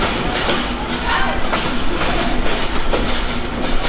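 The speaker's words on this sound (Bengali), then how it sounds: "রানিং ট্রেন থেকে নামবো" A running train clatters past close by, its wheels beating out a rhythmic clickety-clack over a loud, continuous rumble with no voices.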